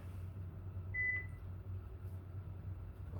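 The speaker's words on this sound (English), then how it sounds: "And we'll stop that timer." An exercise timer gives a single short, thin beep against a low, steady room hum.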